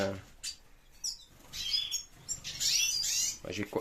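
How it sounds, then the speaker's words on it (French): Hybrid canaries in a breeding room chirping in short bright bursts and trills, close but fairly faint, with a voice talking briefly at the start and end. "Là, j'ai canari hybride,"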